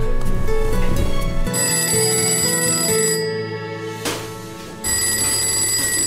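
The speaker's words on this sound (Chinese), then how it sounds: "我即马吼，就随打电话给伊啦" A telephone rings loudly and close while a call is being placed, its bright electronic tone repeating in bursts with a short pause between rings.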